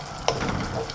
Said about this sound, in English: And I'm going to add my capsicum and my sausages.